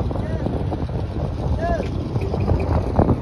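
A boat cruises across open sea near Pattaya, a steady rumble of engine and rushing water with wind buffeting the microphone throughout, voices faintly audible underneath.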